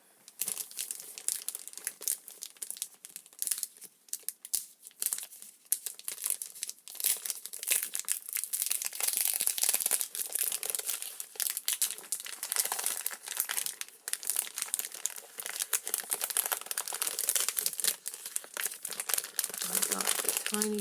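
Paper crinkling and rustling while crafting a journal, a continuous close, loud crumpling and handling noise with brief pauses, steady over twenty seconds.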